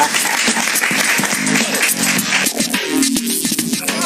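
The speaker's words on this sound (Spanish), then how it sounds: "Si quieren aplaudirlo, lo pueden aplaudir." Studio audience applause during a Spanish-language talk show, continuous clapping at a close, full level with a voice cutting through in places.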